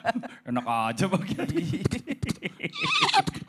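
A voice imitates a horse's neigh with a wavering whinny, followed by chuckling and more talk, with a higher squealing whinny near the end, all close and loud.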